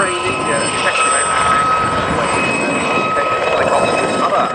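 A Westland Gazelle helicopter flies a display at Scampton Airshow, its steady turbine whine and rotor noise loud and continuous throughout, with a faint voice underneath.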